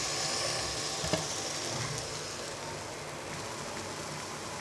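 Patishapta pitha batter frying in a pan brushed with oil, giving a steady close sizzle that holds at an even level throughout, with one faint tap near the start and no voices.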